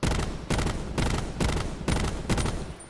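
Rapid bursts of automatic gunfire from a weapon in the battle royale mode of Black Ops 4, arriving in about six loud, evenly spaced volleys with no voices over them.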